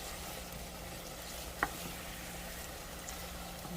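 Taco meat frying in a pan, giving a faint, steady sizzle with a single sharp click partway through.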